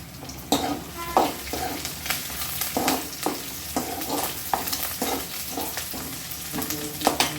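Onions with green chilies and curry leaves frying in a pan for mutton gravy, a continuous sizzle broken by repeated rhythmic scrapes of a spatula stirring, close by with no voices.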